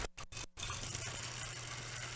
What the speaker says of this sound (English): I'm going to add a little bit of water in the bottom of the pan.